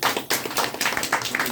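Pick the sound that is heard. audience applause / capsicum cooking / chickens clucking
audience applause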